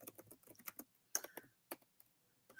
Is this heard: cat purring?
no